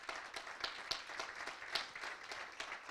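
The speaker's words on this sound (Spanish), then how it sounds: "Dale un aplauso al Señor." Congregation in a church clapping for the Lord, a steady dense wash of many hands with a few sharper claps standing out, fairly distant and moderate in level.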